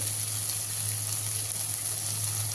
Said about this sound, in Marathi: आपण त्या व्हेजिटेबल परतवून घेत आहोत.